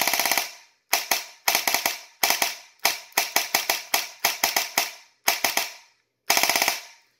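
Echo1 XCR-C airsoft gun running on a 7.4 LiPo battery and firing full auto, in about nine sharp, rapid clattering bursts separated by short silences, close and loud.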